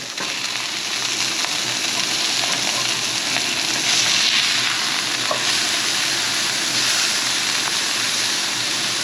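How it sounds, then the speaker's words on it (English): Elk burgers sizzle over an open fire after being flipped, a loud, continuous frying crackle with faint pops running steadily throughout, no talking. "let's give these last two a flip here"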